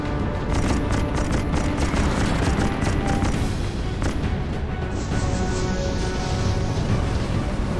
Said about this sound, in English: Speed and man the deck gun, Captain.